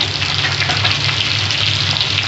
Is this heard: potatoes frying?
yes